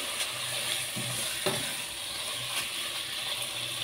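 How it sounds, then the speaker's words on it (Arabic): Liver with vinegar sizzling and frying in a hot pan over high heat, a soft, steady crackle with a few faint clicks, quiet and without talk. "انا هسيبها كده تتشوح ولونها يتغير"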